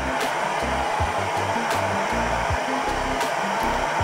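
A hot air blower or hair dryer heats a Samsung Galaxy A40 phone, a loud steady close whoosh of blowing air running throughout with a faint low rattling underneath.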